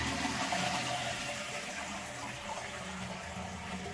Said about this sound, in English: Toilet's still filling up